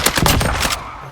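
Rapid automatic gunfire from the video game Warzone, a loud close burst of several quick shots lasting under a second before trailing off, with no voices.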